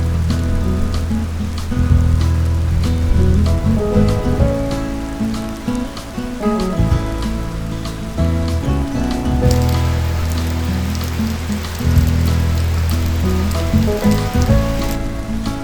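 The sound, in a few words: monsoon rain falling in Darjeeling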